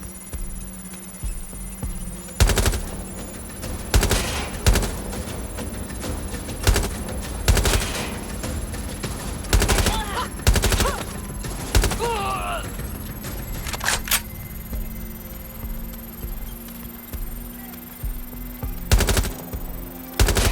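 Bursts of automatic gunfire and single shots in the video game Watch Dogs, loud and close, repeated sharp cracks spread across the scene over a steady game hum, with occasional voices between the shots.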